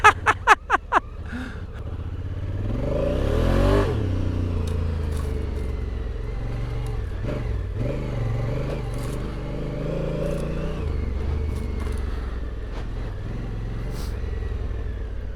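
A few sharp clicks come first, then a motorcycle engine surges loudly and settles into a steady close running drone with occasional knocks, ridden on a backcountry trip, with no voices.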